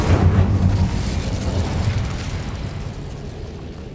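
An Incendio fire spell bursts in Hogwarts Legacy with a loud whooshing eruption of flame that starts strong and slowly fades into a rumbling roar.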